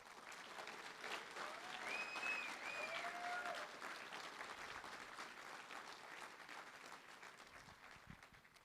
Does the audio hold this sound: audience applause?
yes